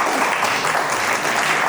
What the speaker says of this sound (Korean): 여기 참석하신 분들은 박수 한번 쳐주시면 진행하겠습니다